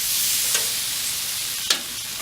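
Pork ribs sizzling on a barbecue grill give a loud, steady crackling hiss throughout, broken by two brief scraping clanks as the meat is shifted, with no talking.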